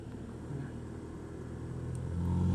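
A large truck rumbles past on a narrow road, a low engine drone building steadily louder toward the end with no talk over it.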